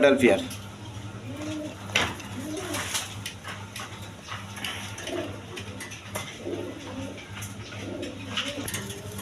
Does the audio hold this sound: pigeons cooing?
yes